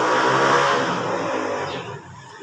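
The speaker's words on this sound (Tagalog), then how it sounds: "Ingay naman ang motor na yan" A motorcycle engine roars loudly past at close range, its revving drone steady at first and then slowly fading as it moves away, with no talk over it.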